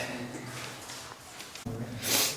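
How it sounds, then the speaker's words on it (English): A person sniffs repeatedly from allergies while exploring a flooded tunnel in the Scranton mine, with soft nasal snorts and breathing close to the microphone and a brief louder burst near the end. "Sorry if I'm sniffing."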